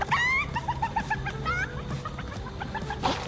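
Chickens in Fortnite cluck repeatedly in short, bright bursts, a steady stream of squawky clucks with a faint background hum.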